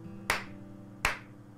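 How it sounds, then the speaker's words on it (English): Two crisp, sharp clapping sounds from the video game The Hanged Man, close and evenly spaced less than a second apart, then quiet. "Can I make some clap sounds?"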